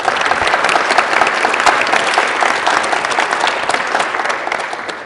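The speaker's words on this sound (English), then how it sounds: "Round of applause." An audience at a Los Angeles student challenge event bursts into loud, dense applause that holds steady for several seconds before starting to taper.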